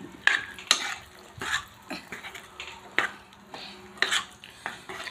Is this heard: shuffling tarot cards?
no